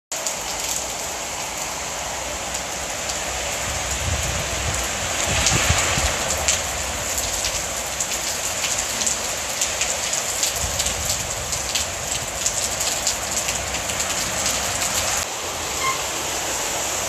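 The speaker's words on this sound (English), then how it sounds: "just trying to show you the rain" Heavy rain pouring down steadily in Merida, Mexico, a dense continuous patter on surfaces with a brief swell in intensity, no talking.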